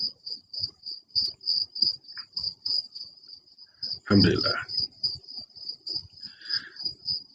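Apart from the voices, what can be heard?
crickets chirping at night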